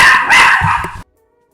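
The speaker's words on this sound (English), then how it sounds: "about the dogs" Dogs bark close by in a quick, loud cluster of yaps lasting about a second, then silence.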